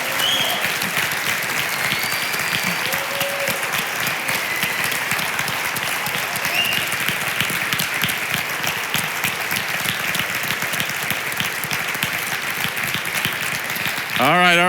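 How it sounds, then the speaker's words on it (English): Sustained applause from an audience of family members cheering students at a LifeHouse event, a dense, steady roar of clapping that carries on for many seconds at full volume, ending with a brief squeal near the close. "let's clap for these guys one more time."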